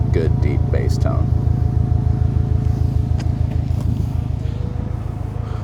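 A 2019 Subaru STI with a COBB Stage 2 titanium exhaust idles close by with a deep, throaty, steady low rumble while a person talks over it.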